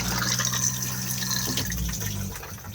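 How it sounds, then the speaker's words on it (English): A 2021 Elddis Majestic 155 caravan toilet flushing into its cassette, a steady close rush of running water that holds for nearly three seconds before easing off slightly at the end. "Push to flush on the blue button."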